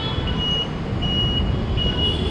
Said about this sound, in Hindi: आपको इसके अंदर बजर मिलता है, जो बीप साउंड आ रही है वो भी मिलता है